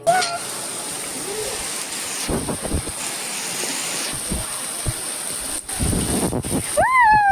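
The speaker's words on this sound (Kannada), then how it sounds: "ನೋಡ್ರಿ ಜೋರೇ ಮಳೆ" Heavy rain pours outdoors as a steady, dense hiss with occasional splashing, and a few faint whistling tones rise near the end.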